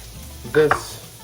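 Peppers and onions sautéing in a pan, with a soft steady sizzle and a brief louder burst of stirring or tossing near the middle.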